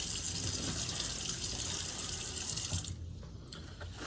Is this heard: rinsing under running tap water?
yes